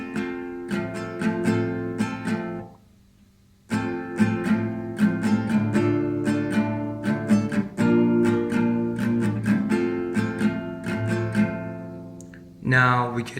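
An acoustic guitar strums the intro chords of a song in a steady down-up rhythm, close and clear, pausing once briefly before the pattern resumes.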